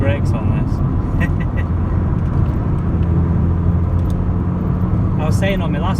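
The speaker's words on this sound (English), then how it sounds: "it's amazing how this car drives and handles, considering it's a 37-year-old Cavalier" A 37-year-old Vauxhall Cavalier Mk2 with an SRi130 engine drives along with a steady, loud interior rumble of engine and road noise, while people talk throughout.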